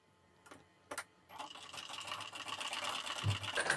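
A sewing machine runs steadily while stitching a blouse sleeve, with a continuous whirring buzz starting after a few faint clicks and carrying on to the end.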